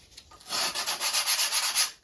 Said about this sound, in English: just give that a little bit of a sand down to that line